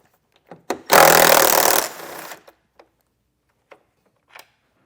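A bolt is pulled with a 10mm socket on a 2024 Jeep Grand Cherokee L during a base plate install. A loud, close mechanical burst lasts under a second, followed by scattered small clicks and taps.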